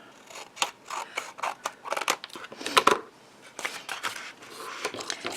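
Scissors trimming paper for a pop-up heart card, a series of close, crisp snips in an uneven rhythm with brief paper rustles between cuts, no talk.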